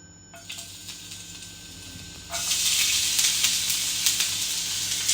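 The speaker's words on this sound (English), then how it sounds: "So I'm just going to put that into the frying pan." A quiet hum, then a sudden loud burst of sizzling as onions hit a hot frying pan, browning for Jamaican beef patties, the hiss continuing steadily and close up.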